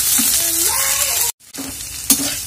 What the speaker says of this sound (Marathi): मोठ्या गॅसवरच आपल्याला हे कांदे असे छान मऊ होईपर्यंत भाजून घ्यायचे आहेत